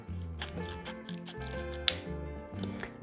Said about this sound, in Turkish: Şimdi şu kısımlardan birazcık daha oyacağım. Şöyle yuvarlak makasla.